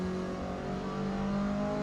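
A Ford Escort with a small 1.4-liter engine revs in the Forza Motorsport racing game at Mid-Ohio, a steady mid-pitched engine drone with tonal harmonics rising slightly across a brief stretch.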